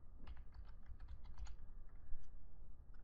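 Keys clatter steadily on a computer keyboard while PL/SQL code is typed, a close run of quick, uneven clicks with brief pauses and no talk.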